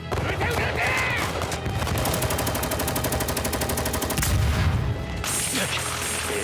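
Gunfire rattles through an anime battle, with long bursts of rapid machine-gun fire and scattered shots over a dense, noisy backdrop, briefly broken by a heavier rumble near the end.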